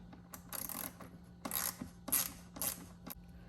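A Torx T20 driver turns out the retaining pins on a 2018 Tesla Model 3 instrument display, giving bursts of close ratcheting clicks in three or four short spurts, with a steady low hum beneath and no talking.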